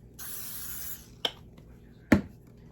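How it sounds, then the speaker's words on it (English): Cooking spray hisses in one steady second-long burst over the top of dough during meal prep, followed by two sharp taps or knocks. "Spray the top."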